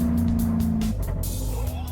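An Alfa Romeo 8C Competizione engine on the overrun gives a loud, close, burbling exhaust note that lets off, with crackles and pops as the revs fall.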